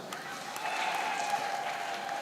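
Audience applause in a hall at a church mission anniversary gathering, a steady moderate wash of clapping holding evenly for a couple of seconds, fairly distant.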